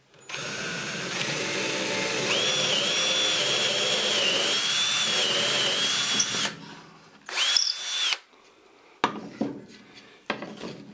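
A power drill bores a 1/4 inch hole in wood for the axle of a wooden puffin push toy, giving a loud, steady whine for about six seconds before stopping, followed by a few brief knocks and clatters.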